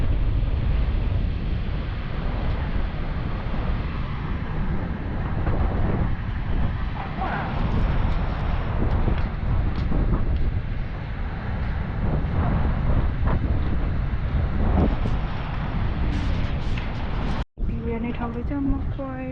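Cold wind at a beach buffets the microphone as a steady, loud roar throughout, with faint voices underneath and a sudden cut near the end.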